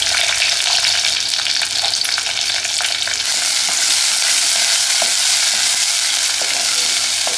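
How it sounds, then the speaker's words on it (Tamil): Steady, dense sizzling of small onions (shallots) frying in hot oil, a continuous crackling hiss with occasional soft stirring clicks, close and fairly loud. "சின்ன வெங்காயத்தை போட்டுக்கலாம்"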